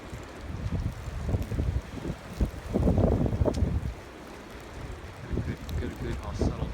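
Blizzard winds gust across the bay during the Jonas storm of 2016, swelling into loud buffeting bursts on the microphone then easing, with rough water beneath and people talking over it.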